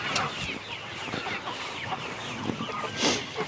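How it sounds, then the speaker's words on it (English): A flock of broiler meat chickens clucking and chattering close by, with overlapping calls and a few louder squawks throughout. "These are meat chickens."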